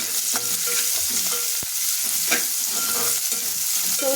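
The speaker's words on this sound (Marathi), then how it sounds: "तेल चांगलं गरम झालं की त्याच्यामध्ये लसूण टाकून घेऊया मिरची आणि कांदा हे छान आपल्याला परतून घ्यायचे" Garlic, green chili and onion sauté in hot oil for a mustard-greens dish, a steady close sizzle broken by scraping stirs of a spatula against the pan throughout.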